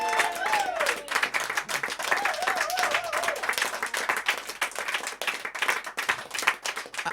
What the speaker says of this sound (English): Give yourselves a round of applause, and one more time for the musicians as well